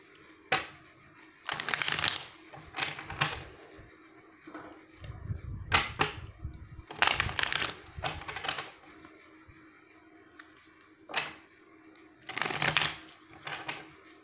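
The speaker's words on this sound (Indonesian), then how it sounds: "Oke, aku ambil lagi kartu." Playing cards for a pick-a-card tarot-style reading are shuffled and drawn in several crisp riffling bursts, separated by quieter pauses with light handling sounds, heard close up with no talking.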